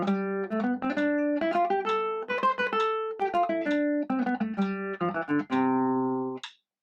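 A pitched instrument runs through a scale in groupings of one eighth note followed by sixteenth-note triplets, with clean, close notes in a quick repeating rhythm that ends on a held tone.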